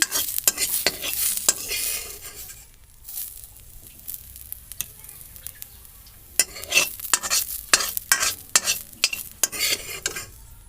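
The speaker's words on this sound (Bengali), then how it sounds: "আমি কিছুক্ষণ ভেজে নামাচ্ছি" Jackfruit seeds frying in a pan, bursts of rapid scraping stirs over a crackling sizzle, with a quieter stretch in the middle before vigorous stirring resumes.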